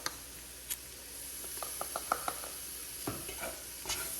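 Minced garlic is worked around a pan over low heat, giving a steady soft sizzle with a short run of light spatula taps and scrapes, close by and without speech.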